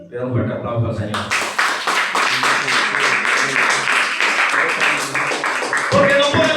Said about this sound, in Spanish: Pido un fuerte aplauso al Señor.